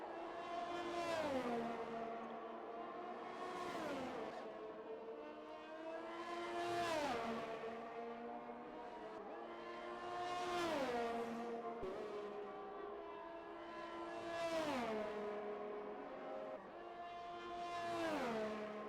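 Onboard race car engine during a qualifying lap, revving up and shifting repeatedly in a steady cycle of rising pitch climbs and drops, loud and close with no talk.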